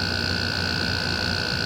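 A Panasonic 7800 BTU window air conditioner's compressor runs with the fan on low, giving a steady, close, even hum with a constant electrical whine and no breaks.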